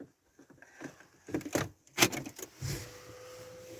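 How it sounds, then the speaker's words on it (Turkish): A key jangles and clicks into the ignition of a diesel car on a cold morning, a few sharp metallic rattles and taps close by, followed by a faint electrical hum. "Şimdi şöyle anahtarımızı takalım."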